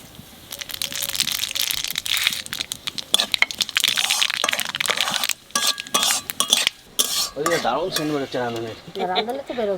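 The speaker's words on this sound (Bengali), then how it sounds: "তেলের পর দিয়ে দেবো শুকনো লঙ্কা আর তেজপাতা আর দেব কটা সর্ষে আর রান্ধনি" Dried red chillies, bay leaves, mustard seeds and radhuni hit hot oil for masoor dal, giving busy sizzling and crackling with stirring and utensil scrapes, close and fairly loud throughout.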